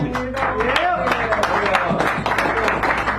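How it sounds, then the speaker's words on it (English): Audience at a San Francisco cafe poetry hour claps in a brief burst of applause, with voices talking and calling out over it. "Give Mr. Adolf Pekin a round of applause."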